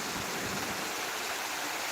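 A steady, loud rush of water flowing out of a pond pours continuously with no pauses.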